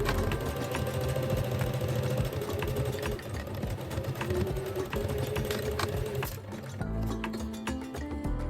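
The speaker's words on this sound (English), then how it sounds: "Sew along the shoulder line" A sewing machine runs steadily along the shoulder seam of a Bali-style kimono jacket, a continuous mechanical whir that stops briefly near the end before a lower motor hum resumes.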